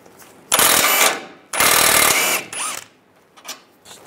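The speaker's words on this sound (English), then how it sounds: "Take this bolt out here, use a 16 millimeter socket." A socket wrench ratchets a bolt loose on a 1998-2010 Volkswagen Beetle during front driver's side CV axle work: two loud, close bursts of rapid clicking, each about a second long, followed by fainter metallic clinks.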